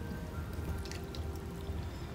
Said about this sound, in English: I would expect this thing to dissolve right away as we pour the water on it.